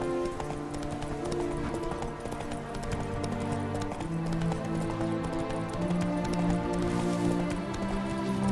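Steady clip-clop of horse hooves trotting at an even rhythm in The Witcher 3 video game, with ambient music playing underneath throughout.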